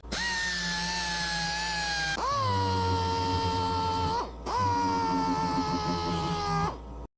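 A power sander works a worn car step plate with 800-grit paper, giving a loud, steady whine in three long passes separated by brief pitch dips as pressure changes.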